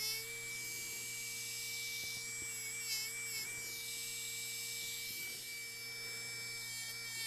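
A fine rubber polishing wheel on a rotary tool works scratches out of a metal casting, producing a constant high whine with a low hum beneath and faint rubbing scrapes as the piece is worked.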